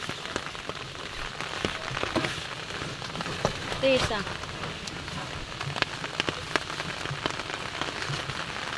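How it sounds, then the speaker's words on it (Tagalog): Steady rain patters and hisses on a surface throughout, with a brief voice speaking once. "Ayan nga po't inabot na po tayo ng ulan."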